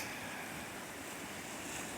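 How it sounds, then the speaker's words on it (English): Irish Sea waves in midwinter wash in a soft, steady roar mixed with wind noise, distant and fairly quiet throughout, with no voices. "This is a beautiful scene of the Irish Sea in midwinter"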